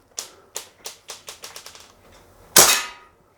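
Umarex Steel Strike CO2 blowback BB rifle firing a rapid string of about nine sharp cracking shots that speed up toward the end, then a louder, longer metallic clang a moment later, clear and close with no talking.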